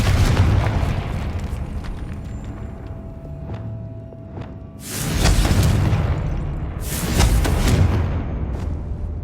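Confringo fire spell explosions in Hogwarts Legacy gameplay: two heavy, rumbling booms a couple of seconds apart, each bursting loudly, then trailing off over a continuous low background rumble.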